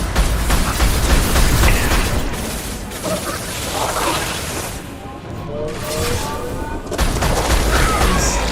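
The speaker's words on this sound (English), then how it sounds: "I like the rapid fire of the Viper." In Mass Effect 2, the Viper rifle fires in dense, rapid volleys of sharp shots, joined by mechanical clatter and booming combat effects throughout, with a brief lull in the middle.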